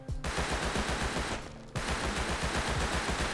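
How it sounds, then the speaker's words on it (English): Thompson submachine gun firing in the game Rust, rapid rhythmic automatic bursts with a brief pause in the middle before firing resumes, loud and dense. "They also added the new recoil system to the last of the SMGs. And here's the Thompson."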